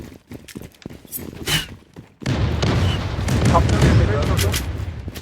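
Bomb blasts in the video game Zula burst in after a stretch of scattered footsteps and shots, then a sustained loud roar of explosion debris and rumble fills the rest.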